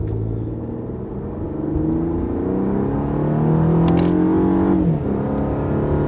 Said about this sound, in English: let's give it a little gas and see what it's got